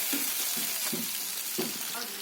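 Cumin, onion paste and ginger paste fry in hot oil, a soft steady sizzle with a few faint stirring scrapes, close and without talk.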